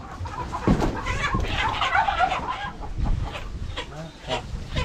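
Heritage breed chickens cluck inside a box at a small backyard farm, a steady stream of soft, overlapping clucks at moderate distance with low background rustling.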